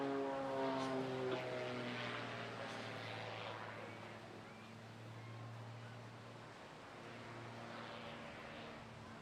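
A Cap 232 aerobatic aircraft flies solo at the Bournemouth Air Festival, its propeller engine droning with a steady tone that rises and falls slightly as it passes, heard at a moderate distance with no talking.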